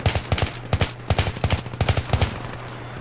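Bursts of machine gun fire in the video game Battlefield 3, several short rapid volleys of sharp shots with brief pauses between them, loud and close, no talking.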